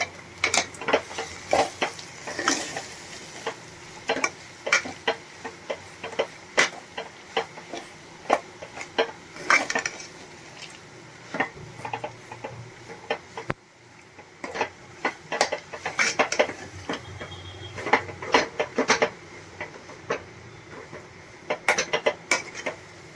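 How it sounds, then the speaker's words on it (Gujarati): A spoon scrapes and clinks against a metal pot while peanut potato khichdi ingredients are stirred, producing irregular sharp taps and scrapes with quiet gaps between them. "હવે આપણે આ બધું એકદમ સરસ મિક્સ કરી લેશું"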